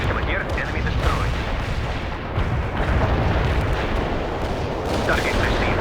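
An artillery barrage rolls on in World in Conflict as a dense, continuous rumble of booms and blasts, with faint voices coming through at moments.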